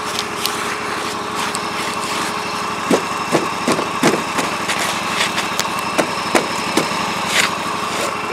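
John Deere 345 running as a snow thrower with its drive belt rubbing, a loud, steady engine drone close by, with rhythmic scraping pulses joining partway through.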